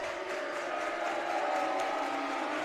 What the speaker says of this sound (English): You can hear now as the crowd is really into it.